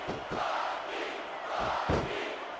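A wrestling arena crowd in the WWE SmackDown! vs. Raw 2006 video game roars steadily, with a few louder swells of reaction rising out of the continuous, fairly distant noise.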